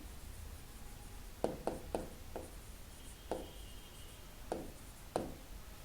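Pen on paper while working a class 7 math assignment, faint scratchy strokes and several distinct taps as letters and numbers are written, quiet and close against a low steady background hum.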